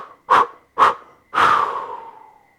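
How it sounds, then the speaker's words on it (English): Mukha bhastrika breathing in a yoga practice: two sharp, forceful exhales through the mouth, then a longer breathy exhale trailing off as the body folds forward, close and clear with no talk. "It's an inhale to lift the chest. Forward folding as you exhale."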